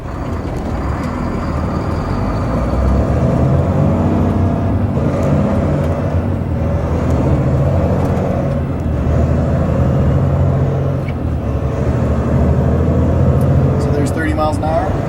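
A 2011 Volvo 730 RV-hauler truck accelerates from a standstill through its gears, its engine drone rising and falling at each shift while a voice talks over the steady cab noise.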